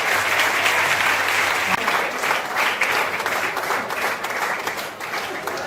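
A hall of prisoners at Sabarmati Central Jail in Ahmedabad applauds during a de-addiction drama event, giving several seconds of loud, sustained crowd clapping that eases slightly toward the end.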